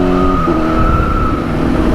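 A motorcycle, a liter bike, revs hard in first gear with a steady high-pitched engine whine that rises slightly, loud and close with road and wind noise underneath.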